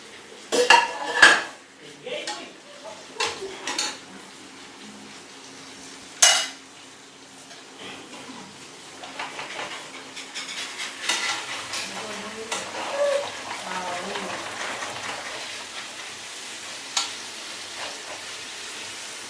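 Fish frying in a pan while metal utensils scrape and clink against it, sharp clatters early on, then a softer sizzling hiss with occasional stirring taps, faint speech in the background.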